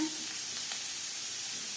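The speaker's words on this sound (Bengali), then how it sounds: "পেঁয়াজ লালচে করে ভাজা হয়ে গেছে" A brief, even crackle and sizzle of onions frying in oil, heard close with nothing else over it.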